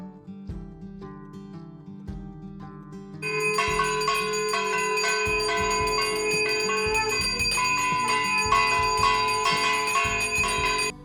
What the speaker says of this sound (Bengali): শাঁখ ঘণ্টার আওয়াজ পেয়ে